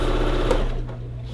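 A sewing machine runs at a steady hum while stitching a curve along the edge of a fabric swaddle blanket, then slows and stops partway through the short stretch.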